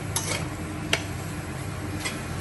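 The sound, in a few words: lid being removed from a cooking pot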